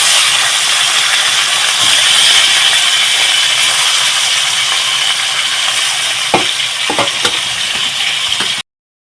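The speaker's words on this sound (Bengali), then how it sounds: "মাছ দুটো এখন তেলের মধ্যে দিয়ে দেবো।" Two fish rubbed with salt and turmeric frying in hot oil give a loud, steady hiss and sizzle, with a few faint knocks near the end before it cuts off abruptly.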